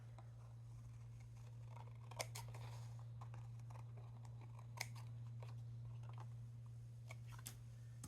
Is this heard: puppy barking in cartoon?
no